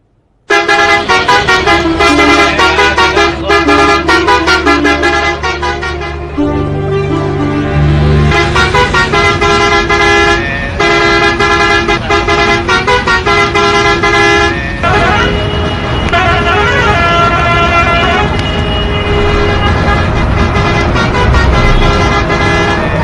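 Loud bus horns blare repeatedly and overlap, long sustained honks from several vehicles sounding one after another with engine noise underneath.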